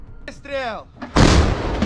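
A shouted voice is followed by a loud, close artillery shot, a sudden broadband blast that rumbles and fades over the next second.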